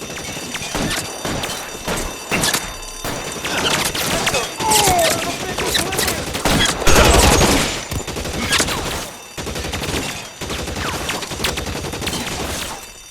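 Gunfire rings out in the video game L.A. Noire during a bank shootout, with dense, loud volleys of rifle and machine-gun shots that come in repeated bursts, and brief shouted voices in between.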